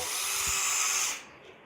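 A high-pitched power drill whines steadily for about a second while enlarging holes in turnbuckles for a model aircraft, then spins down and stops, leaving quiet room tone.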